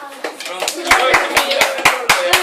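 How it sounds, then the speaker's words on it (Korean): A short burst of hand clapping from a small group at a school speech contest, close by, with sharp claps and some voices over the top. "박수."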